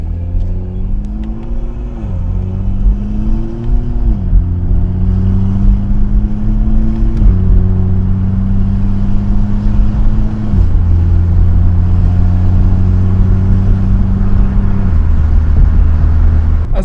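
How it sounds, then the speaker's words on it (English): A car engine cruises under paddle shifting, its loud steady drone stepping up in pitch and then dropping at each gear change, with no talk over it. "Hear the engine, how it sounds"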